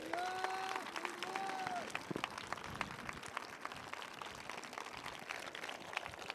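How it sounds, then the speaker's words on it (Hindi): A congregation at a Hindi-language Christian sermon applauds for Jesus, giving sustained, evenly dense clapping heard at moderate distance, with a brief voice over it at the start. "आइए यीशु के लिए अच्छी ताली बजाएंगे हम।"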